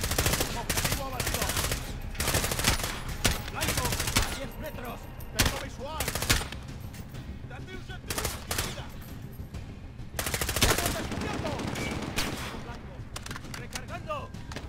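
Gunfire in Call of Duty: Modern Warfare comes as rapid automatic bursts and single sharp cracks in irregular clusters, loud and close, with a voice speaking at times between the shots.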